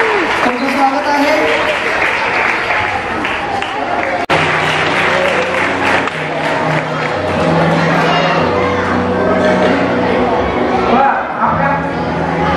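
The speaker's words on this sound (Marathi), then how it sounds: "त्यांचे टाळ्या वाजवून आपण स्वागत करूया." A church audience at a children's crusade in Miraj claps to welcome visiting children. The applause is loud and sustained for the whole stretch, mixed with crowd voices and some children's shouting close around.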